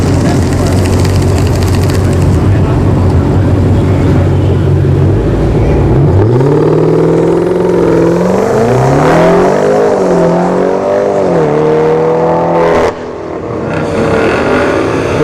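Turbocharged BMW 550i launching down a drag strip, its engine loud and close, revving and climbing through several gear changes with a steady roar that cuts abruptly near the end.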